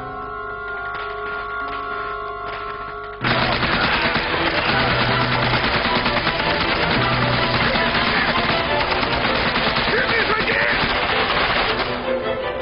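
Dense bursts of rapid gunfire and machine-gun fire crackle loudly and continuously in a dramatized firefight, starting abruptly after a few seconds of quieter tonal sound and lasting until near the end.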